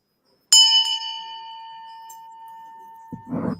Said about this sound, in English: And then I got this bell, but this has a different kind of sound.